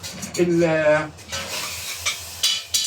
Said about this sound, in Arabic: بحطها على النار في حله واقعد اقلب